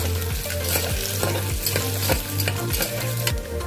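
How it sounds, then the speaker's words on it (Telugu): Potatoes and green peas fry in a pan for Godavari-style veg pulao, with a steady loud sizzle broken by regular scraping strokes of a stirring spoon. No one speaks. "పొటాటో, ఆలు అన్నీ వేసుకుని ఫ్రై అవ్వాలన్నమాట."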